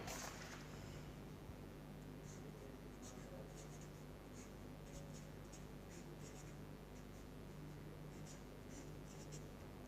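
A pen scratches across paper in short strokes during a maths tutorial, faint and close over a quiet room hum.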